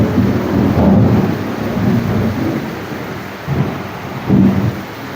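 Thunder rolls through a storm in low, booming swells, with several heavier rumbles over a steady wash of rain, loud and continuous with no voices.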